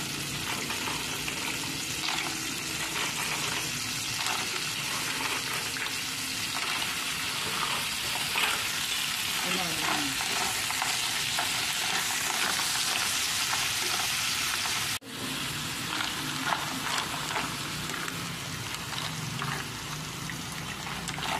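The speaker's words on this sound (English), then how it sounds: "add the mussels" Mussels fry in a hot pan with a steady, close, crackling sizzle that runs throughout, with a brief drop in level near the end and no speech.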